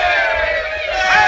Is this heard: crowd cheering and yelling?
yes